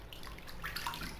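Water scooped by hand and poured over the feet in a foot soak for sore, tired feet, giving a brief, quiet trickle and splash of water over skin.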